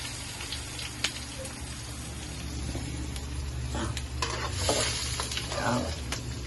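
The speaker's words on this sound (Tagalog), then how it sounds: "Mainit na po ang ating kawali. Lagyan na po natin ang ating sibuyas." Onions hit a hot frying pan, a soft steady sizzle with stirring scrapes and faint clinks, quiet and close.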